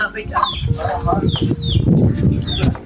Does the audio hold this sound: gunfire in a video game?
no